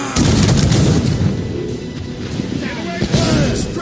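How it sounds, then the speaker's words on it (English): Ship cannons fire in a naval battle in the Assassin's Creed Rogue video game: heavy booming blasts and rumbling over continuous loud battle noise, with shouting voices mixed in. "Man the cannons!"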